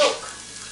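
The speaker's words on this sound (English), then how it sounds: "Now we add milk" Whole milk pours into a pan of coated sausage meat with a brief, close splash. It fades quickly into a soft hiss and sizzle.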